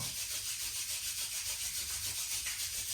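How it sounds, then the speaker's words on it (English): Hands rub briskly together to warm them, a close, steady swishing friction in even repeated strokes with no talk. "So you rub the hands, make them warm."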